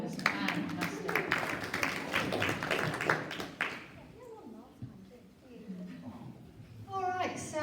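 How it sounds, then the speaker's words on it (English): Students and parents at a school maths evening clap for a few seconds, a dense burst of applause that fades into quieter room sounds and a voice starting to talk. "Let's give them a round of applause."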